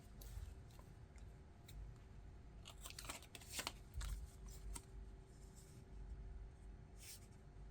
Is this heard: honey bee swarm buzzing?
no